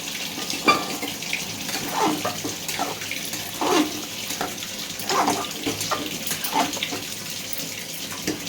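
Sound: water being poured into a cooking pot

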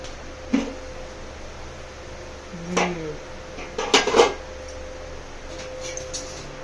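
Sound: stirring fish curry in a cooking pot

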